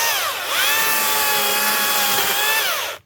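Trimming a storm-damaged wild tobacco plant after a tropical cyclone produces a steady, close, loud cutting whine with rising and falling harmonic sweeps, running almost continuously for about three seconds before stopping abruptly.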